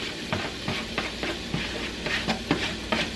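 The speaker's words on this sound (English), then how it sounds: "I'm going to add my onions and my garlic." Onions and garlic cooking in a pan with browned ground chuck, stirred with repeated scraping strokes over a low steady sizzle, close and moderately loud, no talking.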